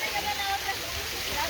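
The small Rocky Glen waterfall at Waterfall Glen Forest Preserve in Lemont tumbles over rocks in a steady, close, hissing rush of water that holds an even level throughout.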